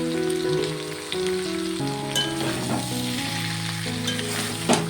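Cauliflower florets fry in a pan with turmeric and salt, giving a steady sizzle across the clip, partly covered by a tonal melody on top.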